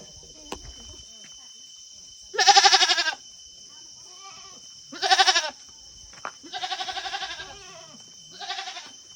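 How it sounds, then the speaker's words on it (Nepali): Goats in village pens bleat four times at close range, in loud wavering calls spaced a few seconds apart, over a constant high insect drone. "ल यो बाख्राको खोरहरू है हाम्रो गाउँतिरको"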